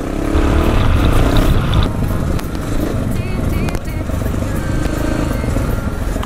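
A motorcycle engine drones steadily at close range throughout, with a rough, gritty rumble from the tires churning over soaked, sandy ground on an off-road trail.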